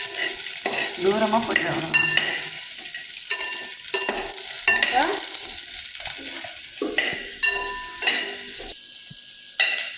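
Chillies spluttering and sizzling in hot oil in a pan while being stirred, with steady frying hiss and scattered sharp pops and scraping throughout; a voice briefly speaks.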